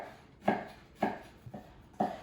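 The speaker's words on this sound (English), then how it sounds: "And the croissants, you can just chop them up into small pieces" Knife chopping day-old dry croissants into small pieces on a board: four sharp, evenly spaced thuds about half a second apart, close and fairly loud, with no talking.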